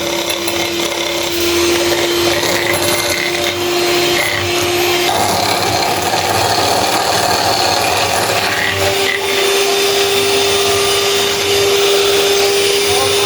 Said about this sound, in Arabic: دابا غادي نطربو صفار البيض، غادي نضيفو عليه الفاني